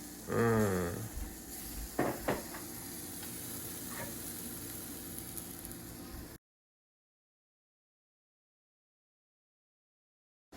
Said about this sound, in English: And I'm making pancakes for dinner.